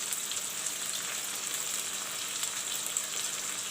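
Onions sizzling in hot oil with bay leaves in a pan while cooking a soya chunk and potato curry, a steady close crackle of frying with fine spitting pops throughout, no talk.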